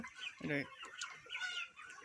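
Sonali hybrid chickens on a small farm cluck softly, with one clear nearby cluck and scattered quieter calls from others in the background.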